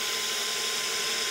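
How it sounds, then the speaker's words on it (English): A drill bores small pilot holes for soft brass screws on a metal candle sconce, a steady high-pitched whine running continuously and close throughout, with no talk. "so it's time to drill"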